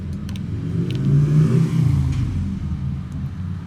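Road traffic noise as a car engine swells and rumbles past nearby, rising then slowly fading, with no one speaking.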